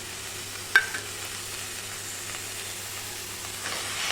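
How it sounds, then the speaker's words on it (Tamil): Goat blood frying with grated coconut in a pan while being stirred, a faint steady sizzle with one brief clink of a utensil, no talk. "தேங்காய் சேர்த்ததுக்கப்புறம் நல்லா வறுத்து விட்டுறலாம்"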